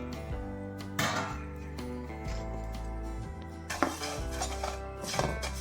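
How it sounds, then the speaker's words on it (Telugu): Cumin seeds, a hundred grams, dry-roasting in a pan for homemade curry powder, with repeated scraping and clinking of a spatula against the metal pan, steady and close, with no talk. "తర్వాత ఈ వంద గ్రాముల జీలకర్ర కూడా వేయించుకోవాలి"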